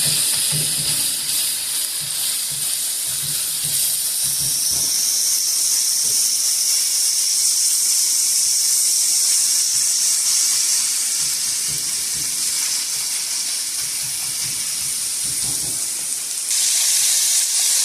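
Minced keema roasting on a hot tawa gives a steady, loud hiss like light rain that holds for the whole stretch, with faint scraping underneath.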